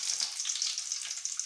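Garlic and tempering spices frying in hot oil, a bright, hissing sizzle with tiny crackles and a couple of sharper pops, close and steady throughout with no voices.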